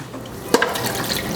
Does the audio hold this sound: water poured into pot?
yes